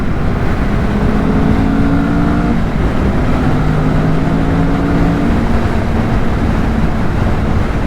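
A loud 2024 Kawasaki Vulcan S motorcycle engine roars and revs, its pitch rising and falling over a constant rumble, with wind noise and no speech.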